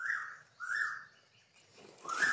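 A wild bird, a dark-coloured one, calls outdoors in three clear bright chirping phrases separated by short pauses, fairly close and alone with no talk.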